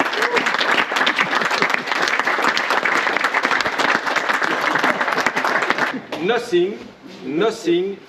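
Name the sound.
audience applause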